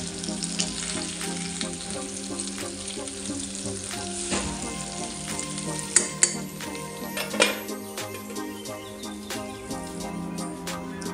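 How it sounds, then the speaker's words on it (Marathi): Stuffed green chillies fry in oil in a pan with a loud, continuous crackling sizzle, with a few sharp clinks of a utensil against the pan along the way. "अशा खरपूस शिजून जाणार आहे त्या तेलातच"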